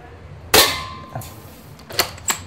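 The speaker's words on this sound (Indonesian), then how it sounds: "Tembakan pertama, tembakan kedua, mencelat semua." dCobra M96 airsoft spring gun fired at a target, one sharp loud crack followed by a few lighter knocks and clinks of the hit target, close and without talk.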